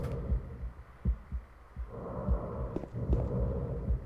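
Low muffled heartbeat thumps pulsing in a regular double rhythm inside a Silent Hill 2 room, with a dark droning hum and faint breathing underneath.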